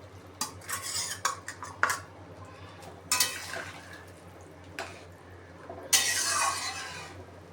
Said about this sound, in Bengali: এখন এর ভিতরে মাছগুলো দিয়ে দেবো।